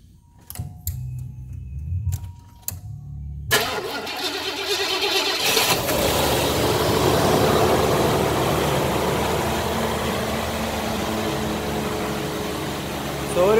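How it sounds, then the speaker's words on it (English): A 1985 Cadillac Fleetwood Brougham with 20k miles is heard. A few clicks and faint cranking come first, then the engine catches with a sudden loud start and settles into a steady, rumbling idle close by. "Can we turn on the engine?"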